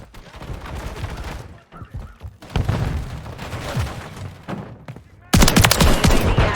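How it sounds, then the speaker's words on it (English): Gunfire and explosive bursts in a Call of Duty Modern Warfare 3 team deathmatch on the Stash House map, dense rattling shots in waves with a loud, close burst near the end. "I'm taking fire."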